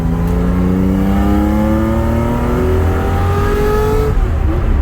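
A high-revving Porsche 911 outlaw sports car engine accelerates loud and close, its pitch climbing steadily for several seconds before easing off near the end.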